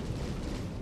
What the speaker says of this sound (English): That explosion is always very beautiful.